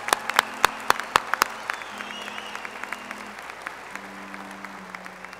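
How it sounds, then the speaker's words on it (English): Applause for animal and nutritional science graduates at a university commencement ceremony: a few sharp, loud claps at first, then sparse, thinning claps from a crowd in a large hall, with faint tones lingering underneath. "Let's have a round of applause for all our animal and nutritional science."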